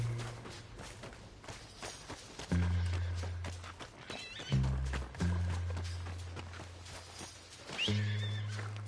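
Horse in Red Dead Redemption 2 neighing and whinnying repeatedly, with clip-clopping hooves and thuds, close and fairly loud in short bursts over game background noise.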